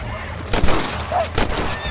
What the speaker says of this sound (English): Shoot them before they get to the animals.